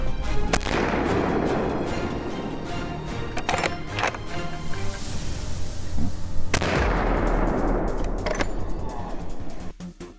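Hunting rifle shots fired at a wild boar outdoors, with several sharp, loud reports standing out over continuous rumbling noise and commotion that fills the whole stretch.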